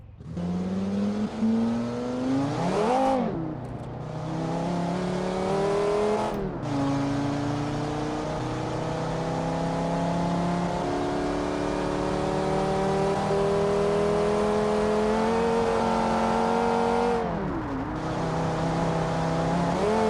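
A wheel stander car revs and drives, its engine whining steadily with rising and falling pitch sweeps as the throttle changes. The sound is loud and close throughout, with no talk.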